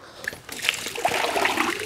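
Water draining and trickling out of a Clean Core Caddy, a steady splashing gurgle that builds over a couple of seconds, close and clear.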